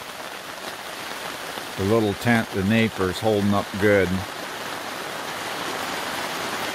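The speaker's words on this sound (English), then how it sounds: "It's raining again." Steady rain patters on a Napier Sports camo truck tent, a 57 series, in a continuous hiss under a man's brief spoken remark.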